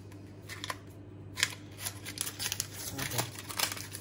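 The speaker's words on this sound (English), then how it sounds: "Tape here, I'm gonna get rid of that." Tape being peeled and torn off the cardboard packaging of a 10.5-inch Lodge cast iron skillet, close up, with irregular crinkling and ripping bursts and rustling, no talk.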